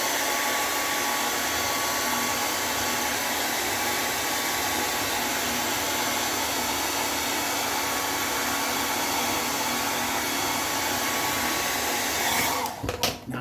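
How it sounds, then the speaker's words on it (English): A hair dryer blows steadily and loudly on a beard for over twelve seconds, a constant close whooshing drone that cuts off abruptly at the end. "So let me blow dry this down"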